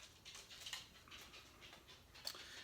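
A dog pants in quick, faint, rhythmic breaths close by in a quiet room, with no talking.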